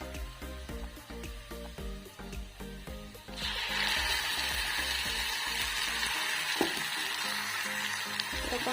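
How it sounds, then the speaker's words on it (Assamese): Tomatoes dropped into hot oil already frying mushrooms and cauliflower, a steady close sizzle that jumps louder and fuller partway through, with a few light utensil clicks and no talking. "এইখিনি ফ্ৰাই হোৱাৰ পিছতে মই এতিয়া বিলাহীখিনি ঢালি দিম।"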